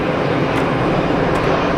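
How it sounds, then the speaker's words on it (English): An EasyJet Switzerland airliner at Geneva Airport, its engines producing a loud, steady, broadband roar that fills the whole short stretch without any break. "EasyJet Switzerland aircraft there with the Hotel Bravo registration."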